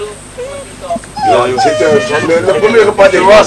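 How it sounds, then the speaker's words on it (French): A dog on a farm where pigs are kept barks and howls in strained, wavering cries through the second half, close by and loud, while people keep talking in French over it. "C'est le chien qui gueule."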